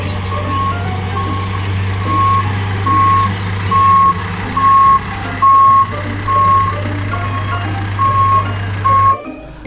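A toy dump truck sounds its reversing alarm as a steady series of evenly spaced electronic beeps over a constant low motor hum, ending with an abrupt cutoff.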